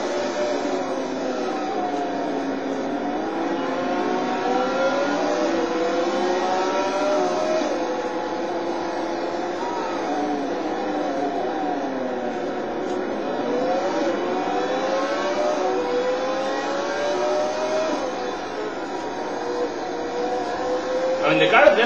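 A race car in Total Immersion Racing drones through a Monza lap, its engine pitch climbing and dropping as it revs through gear changes, loud and continuous while someone talks over it.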